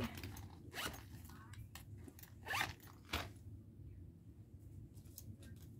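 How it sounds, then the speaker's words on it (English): The zipper on a purse's zippered pocket is worked in a few short, scratchy, close-up pulls among soft rustling and handling of items. "going to go ahead and stick this new pack of gum in the zippered pocket as well."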